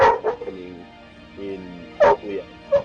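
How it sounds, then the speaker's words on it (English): A puppy barks in short high yips, a couple of quick bursts near the start and more around the two-second mark, close to the microphone, with a voice talking in between. "Sorry about that, my puppy."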